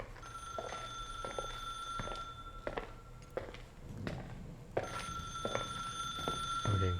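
A telephone rings in repeated electronic bursts in the video game Fail: The Suicide of Rachel Foster, moderately close, with clicks and footsteps between the rings.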